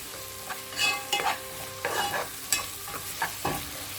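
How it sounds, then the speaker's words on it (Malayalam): Onions and green chillies sautéed with ground pepper in a pan for a Kuttanadan duck curry, a soft sizzle under repeated scraping strokes of a spoon. "എല്ലാം കൂടെ ഒന്നും കൂടെ വഴറ്റിയെടുക്കാം"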